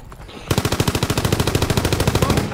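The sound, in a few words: gunfire in Call of Duty WW2 online deathmatch video game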